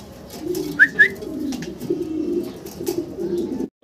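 Jet-black Mundian pigeons coo in low, throaty rolling calls, close and continuous, with a couple of sharp chirps early on.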